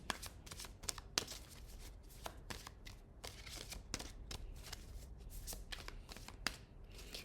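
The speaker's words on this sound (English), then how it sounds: "One more card for pile 3. The last card for pile 3." Tarot cards being shuffled and dealt for a reading, a quiet close series of crisp riffling flicks and slaps in an irregular rhythm, with no talking.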